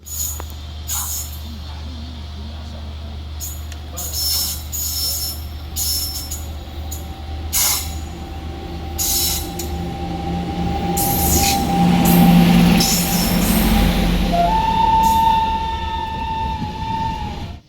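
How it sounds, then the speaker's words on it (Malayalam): The Thiruvananthapuram Lokmanya Tilak Express rumbles past just after emerging from a tunnel, a heavy sustained roar of wheels with sharp squeals and clanks building in the middle, loud and close throughout. "ടണൽ കടന്നിട്ടൊരു ട്രെയിൻ വരുന്നുണ്ട് അറിയാൻ കഴിഞ്ഞത് തിരുവനന്തപുരം ലോകമാന്യ തിലക് എക്സ്പ്രസ് ആണെന്നാണ്"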